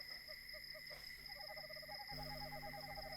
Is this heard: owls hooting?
yes